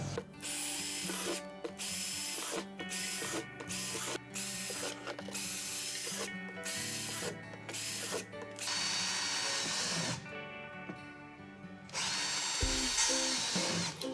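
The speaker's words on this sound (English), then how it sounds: "you are going to drill 1 million holes in this bottom of this container if you're making a worm farm" A power drill bores hole after hole through the bottom of a plastic worm farm container, loud and close, running in repeated bursts with short pauses between.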